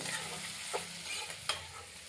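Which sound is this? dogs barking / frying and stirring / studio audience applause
frying and stirring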